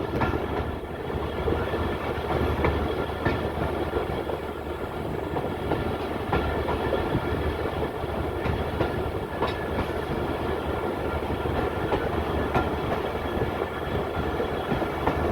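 A Bolan Mail Express train rumbles steadily through a station in Pakistan without stopping, at close range, with a continuous rolling roar and faint rhythmic clatter of wheels on rails, no voices.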